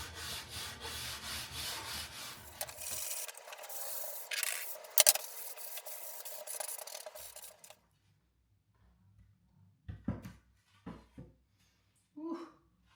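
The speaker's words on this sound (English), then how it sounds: "I'm just using this fine grit, brand new sanding block, and I'm just gonna break the edges." Steady rasping rub of a brand-new fine-grit sanding block breaking the edges of wood for several seconds, then silence and a few scattered light knocks and scrapes.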